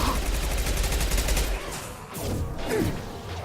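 Rapid SMG gunfire in the video game Mass Effect 2, a dense continuous burst of shots, loud and close, fading briefly before another rough blast of combat noise.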